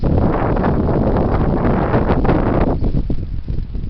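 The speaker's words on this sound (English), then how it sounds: "Here it comes. The heavy wind." Heavy wind blows in a loud, continuous roaring rush straight against the microphone, steady throughout and easing only slightly near the end.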